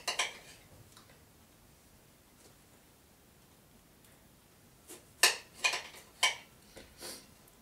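A knife slicing a small lime on a board: a few sharp, separate clicks and taps close by near the end, after a stretch of quiet room noise.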